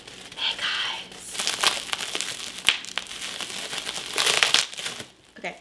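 Bubble wrap and packing paper crinkle and rustle in close, loud, continuous bursts during packing for a move, with a soft voice murmuring now and then underneath.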